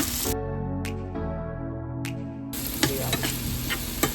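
Onions frying in a pan with sausage are stirred, a dense sizzle broken by two brief pauses, then resuming with spoon scrapes and light taps.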